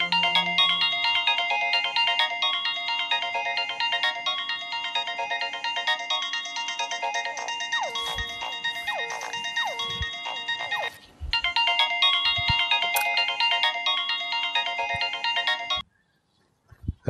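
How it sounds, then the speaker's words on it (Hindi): A mobile phone plays a melodic ringtone while an outgoing call connects. The looping electronic melody repeats clearly for about sixteen seconds, then cuts off into near silence. "मुझे अदनान के सेल पे फोन करना चाहिए"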